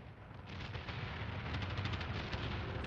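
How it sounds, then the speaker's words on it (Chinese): Artillery bombardment from the Japanese invasion of China around 1937: a continuous heavy rumble with dense, overlapping blasts that swell slightly louder toward the end, with no voices. "侵华日军的炮声隆隆而至"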